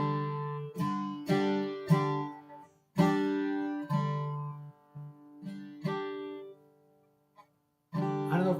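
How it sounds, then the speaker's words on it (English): A guitar chord, G with no third and an added fifth, is strummed repeatedly with a ringing tone. The strums come at an uneven pace, about eight in all, each left to decay, with a short gap near the end before a final strum. "this is called a G no 3rd add 5"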